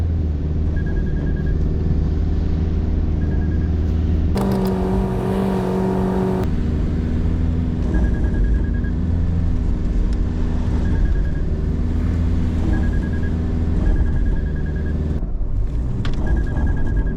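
A vehicle drives along the sand of a beach heading back toward town, its engine a steady close rumble with some revving, running continuously throughout.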